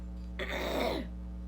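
A single rough, throaty cough or throat-clear, close and brief, lasting about half a second against a steady low hum.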